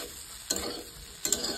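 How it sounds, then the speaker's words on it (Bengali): Soybean chunks fry in a pan with a steady sizzle while a utensil scrapes through them twice in quick stirring strokes, close by. "চলো সয়াবিনগুলো ভাজা হয়ে গেছে মোটামুটি"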